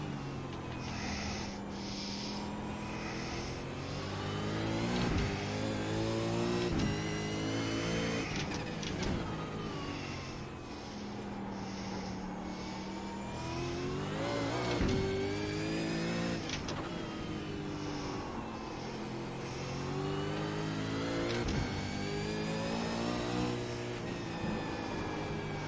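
A V8 Supercar races around Oran Park in the iRacing video game. The engine screams loudly and closely through repeated upshifts and braking downshifts, and each lap cycle rises and falls in pitch.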